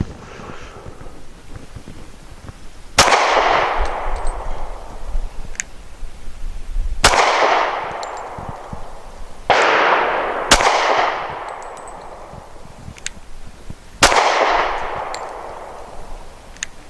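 Five loud, sharp pistol shots from a Smith and Wesson M&P40 Shield firing .40 rounds, spaced a few seconds apart, each with a ringing outdoor echo trailing off.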